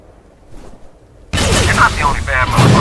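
Shotgun fire in the shooter game F.E.A.R. Extraction Point, a sudden loud blast after a quiet moment, followed by sustained dense gunfire and crashing combat noise that stays loud to the end.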